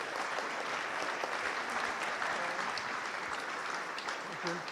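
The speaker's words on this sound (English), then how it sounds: "Big round of applause for Andy." Dense, steady applause from a crowd for a fan invited up on stage at an evening event, loud and continuous throughout with a faint murmur of voices beneath.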